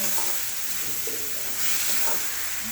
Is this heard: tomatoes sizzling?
yes